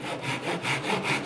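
Japanese pull saw cutting wood on a bench hook, about six to seven rhythmic rasping strokes in quick succession, close and clear with no talk.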